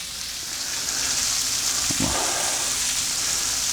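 Green beans fry in a cast iron skillet, a loud, steady close-up sizzle throughout with a brief stirring clatter midway.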